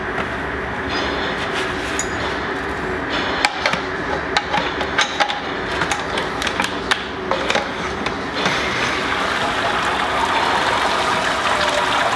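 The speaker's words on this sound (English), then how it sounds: "to pour my sparge water in and rinse my grains" Sparge water pours over grain in a Grainfather during a pale ale brew session, a loud continuous rushing trickle with scattered clicks and knocks throughout.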